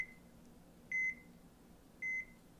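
Short electronic beeps sound in a Friday Night Funkin mod, a faint tone followed by two crisp, evenly spaced beeps, each held briefly over a low background hum.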